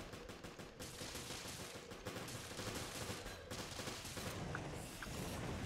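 P90 submachine gun fire from Resident Evil Revelations, with rapid bursts early on, then sustained automatic shooting mixed with other game sounds at moderate level.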